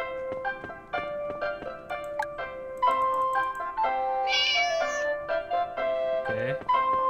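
Cat meowing in the farming video game Harvest Moon: Light of Hope, a few short game meows over a steady background of game music and chimes.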